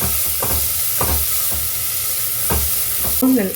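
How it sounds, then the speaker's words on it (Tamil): Onions with rock salt stir-fry in a pan, a loud steady sizzle with rhythmic scraping strokes of the spoon about every half second to second, close and without talk. "வெங்காயம் நல்லா வதங்கிறதுக்கு நம்ம கொஞ்சம் கல் உப்பு சேர்த்துக்கிறோம். கொஞ்சம் நல்லா ஃப்ரை பண்ணலாம்."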